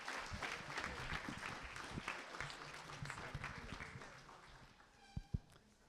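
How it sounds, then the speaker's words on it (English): An audience at a panel discussion applauds the panelists with a dense, steady clapping that fades out over a few seconds. A couple of louder knocks follow near the end. "Can we have a final round of applause for our wonderful panelists tonight?"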